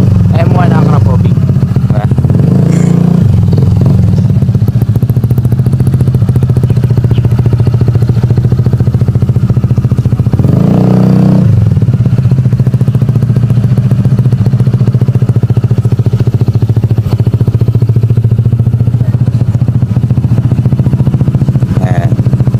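Honda ADV 160 scooter fitted with an Akrapovic M1 full-system exhaust, idling with a steady low rumble and a couple of brief blips, close by, while people talk over it.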